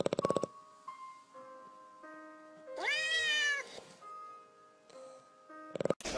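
A cat gives one drawn-out rising meow, near and clear, surrounded by quiet, with a few short sharp noises at the start and end.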